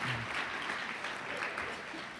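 Audience applause during Richard Cordray's talk at ALC 2016, a brief, steady patter of clapping from a conference crowd with no voices over it.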